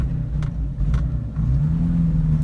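Air-cooled Honda 1300 coupe engine revving as the car pulls away, a loud close rumble that rises in pitch over a couple of seconds.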